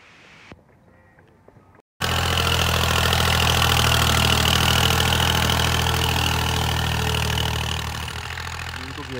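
A tractor engine in a village field, where the ground is being levelled, kicks in after a quiet, lightly talky start and then idles as a loud, steady low rumble that eases slightly toward the end.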